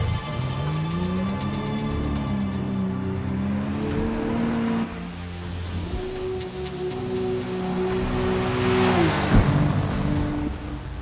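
A Forza Motorsport racing car at full throttle through Spa's blind uphill Eau Rouge bend: a loud, sustained engine roar that climbs and dips in pitch through gear changes, with a brief drop near the middle before surging again.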